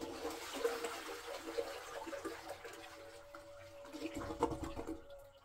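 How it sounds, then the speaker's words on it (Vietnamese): A toilet flushes after its flush button is pressed, water gushing and swirling through the bowl for about five seconds. It swells near the end with a louder rush, heard close up and quiet, with no talking. "bây giờ mình bấm nút xả nước nè"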